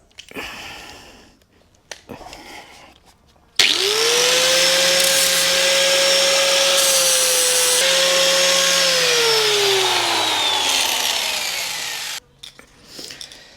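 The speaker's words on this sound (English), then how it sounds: "we'll just use the flap disc to clean this up so that I can weld it better" Flap disc on an angle grinder cleaning metal on a motorcycle fuel tank for welding: short spin-ups, then a loud sustained whining grind lasting about eight seconds with a slight pitch drop as it bites, close up.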